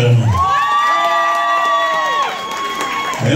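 A nightclub crowd at a Halloween party cheers and applauds, a loud, continuous roar of voices with sustained whooping tones that swells and then eases off toward the end.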